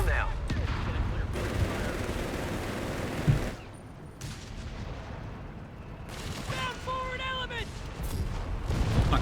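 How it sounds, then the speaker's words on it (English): Gunfire and explosions from a Panzer IV tank battle in Company of Heroes 3, a dense, sustained barrage with heavy booms, a brief lull near the middle, then renewed firing under a faint voice. "Panzer letting loose."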